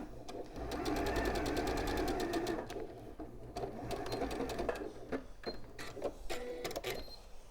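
Sewing machine running a seam on dress fabric in short bursts, a close rapid clatter of stitching that pauses, restarts and slows, with small mechanical clicks between runs.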